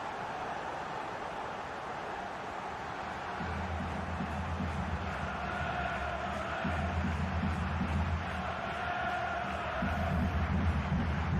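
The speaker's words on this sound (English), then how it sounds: "The crowd have gone crazy, and quite rightly so." A stadium crowd in a football video game roars after a goal, a broad, continuous wash of cheering that swells in waves, with a low rhythmic chant pulsing underneath.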